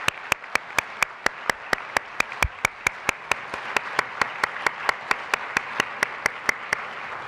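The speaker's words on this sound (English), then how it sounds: "So let's give a round of applause for all of these folks who are making this happen." Applause at a coalition summit comes as steady, evenly spaced sharp claps in a regular beat, loud and close, with no talking over it.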